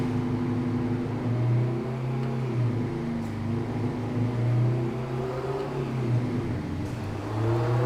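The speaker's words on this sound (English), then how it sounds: "I do love how these things just rev so high" A truck engine in American Truck Simulator holds a low, steady droning rev in low gear, rising and falling slightly, loud and continuous.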